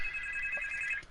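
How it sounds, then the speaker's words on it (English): A phone rings with an incoming call, a single sustained electronic ringing tone lasting about a second, clear and alone against a quiet background. "there's a phone call coming for me"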